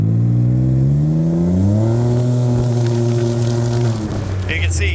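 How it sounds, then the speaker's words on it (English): A Can-Am Ryker accelerates from a smooth takeoff at full throttle, its engine note climbing steadily in pitch, loud and close, then easing off near the end as a voice speaks briefly. "So now if I take off nice and smooth and go full throttle"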